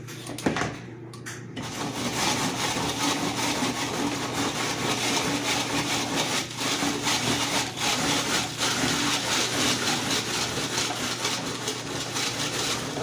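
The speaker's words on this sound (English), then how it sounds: "Look how easy you're peeling that carrot" A vegetable peeler scrapes along a carrot in steady, repeated rasping strokes, close and continuous for several seconds with no voices.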